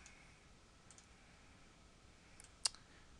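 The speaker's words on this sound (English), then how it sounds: "if I click again, see, we'll just go ahead and click" A single sharp computer mouse click stands out near the end, with a couple of fainter clicks earlier, over a quiet hiss while working in Photoshop Elements.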